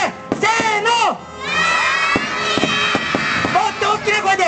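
A crowd of children at an Engine Sentai Go-onger stage show shouts "Go-onger!" together in bursts, loud and close, with a brief pause between the calls.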